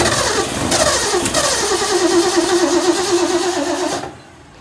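A 1966 Ford Mustang engine cranks and then catches, running loud and steady up close with an uneven, rough rhythm before cutting off abruptly near the end.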